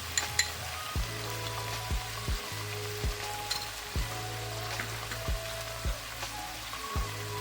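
Poppy seed paste fries in oil for a potato curry, hissing and crackling continuously up close while a spoon scrapes the pan in regular strokes about once a second.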